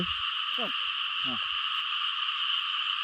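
Frog croaking outdoors near water at night, two or three short croaks sounding in the first half over a constant high insect-like drone, close and distinct.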